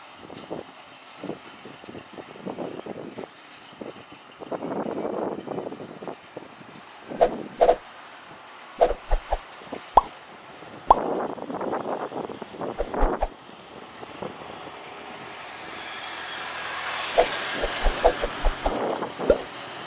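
Sugar cane train locomotive No. 02 of PG Kedawung, hauling empty lorries, rolls over a level crossing in Ketegan. It is heard from a toll-road flyover as a rumbling passage with rhythmic wheel clatter, sharp squeals and hisses, steady and moderately loud throughout.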